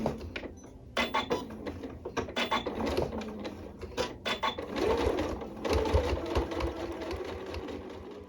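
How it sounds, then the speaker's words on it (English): Sewing machine stitching slowly around a fabric bucket hat, running in stop-and-start bursts with short pauses at first, then a longer steady run of close mechanical whirring and clatter. "And we're gonna sew nice and slow all the way around."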